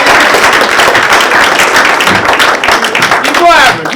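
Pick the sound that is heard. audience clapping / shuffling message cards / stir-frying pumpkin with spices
audience clapping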